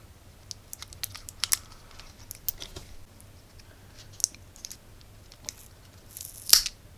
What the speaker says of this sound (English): I need to remove this sticker.